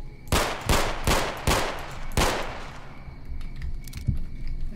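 Five loud, evenly spaced gunshots from a weapon being test-fired in S.T.A.L.K.E.R. Call of Pripyat, each a sharp crack with a short tail, followed by quieter game ambience and a faint later report.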